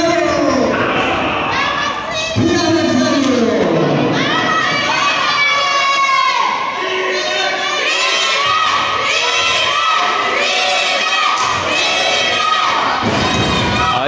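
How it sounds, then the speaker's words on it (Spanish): A lucha libre crowd at an arena roars and shouts in support of a wrestler, loud and continuous, with children's high voices and cheers rising throughout and occasional thuds beneath. "Están los gritos de apoyo para Crimen."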